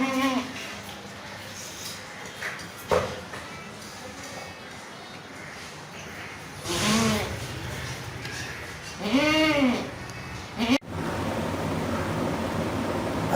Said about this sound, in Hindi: ये प्योर कामोरी बकरी है